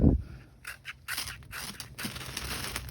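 A steel knife tip scrapes a hard Swedish-type firesteel in several short, close rasping strokes with small gaps between them, with no talking.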